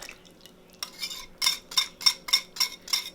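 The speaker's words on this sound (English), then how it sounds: "we're going to give it a really good mix" Vegan, gluten-free chocolate espresso cake batter is stirred briskly in a bowl. A utensil gives about eight evenly spaced scraping clinks against the bowl that grow steadier after a few soft first strokes, close and fairly quiet.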